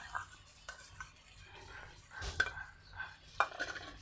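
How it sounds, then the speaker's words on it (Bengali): Cabbage curry with ground cumin and coriander paste being stirred in a pan, heard as intermittent scrapes and clanks of a spoon against metal over a faint sizzle, close and fairly quiet. "ভালো করে এবারে কষিয়ে নেব আর একটু।"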